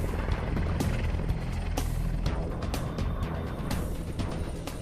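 An AgustaWestland EH-101 helicopter, a three-engine rescue aircraft, flying with a steady rotor roar and rhythmic blade thumps, dense and continuous throughout.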